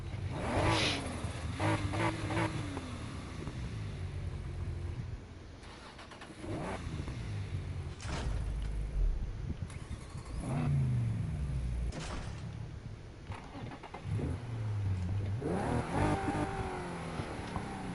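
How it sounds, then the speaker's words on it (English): An upgraded performance exhaust on a car in Need for Speed Heat, revved again and again: sharp rising engine blips that fall back to a burbling idle, repeated through the stretch, close and fairly loud. "That makes it sound like a 350Z."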